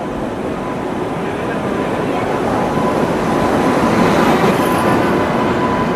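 A train arriving at a busy Indian railway station on a trip to Mumbai, a steady broad rumble that slowly grows louder over six seconds, with station bustle and voices in the background.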